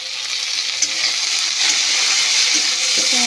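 Chopped tomato dropped into a hot frying pan with onions, giving a loud, steady broadband sizzle and hiss that stays strong throughout.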